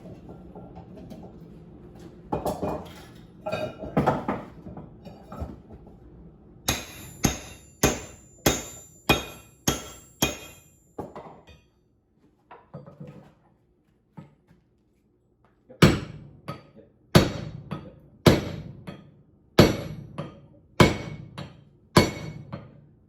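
Hammer striking a flatter on hot steel while forging a top fuller, sharp ringing blows in steady bursts of six to eight evenly spaced strikes, separated by quieter pauses with softer taps and clinks.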